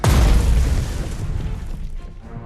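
Artillery fire in a World War II strategy game set in the Blitzkrieg invasion of Poland lands as a single heavy boom at the start, loud and close, then rumbles and fades away over the next two seconds.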